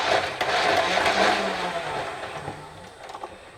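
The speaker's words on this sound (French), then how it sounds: "Voilà, c'est le moteur, c'est les flywheels," The electric motor and flywheels of a Nerf N-Strike Elite Titan CS-50 blaster spin up with a whirring, revving rise, hold briefly, then wind down, with a few small clicks near the end.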